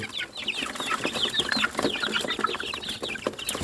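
A flock of one-month-old chickens chirps and clucks continuously, many overlapping high calls close by in a farmyard.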